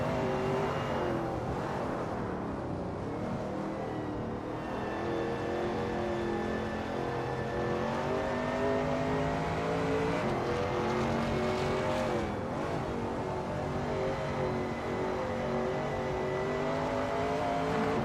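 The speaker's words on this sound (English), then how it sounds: "the roar of the engine" A Shelby Cobra 351 race car engine roars steadily and loudly at Bridgehampton racetrack, a dense rumbling drone whose pitch rises and falls with throttle and gear changes throughout, with no talk.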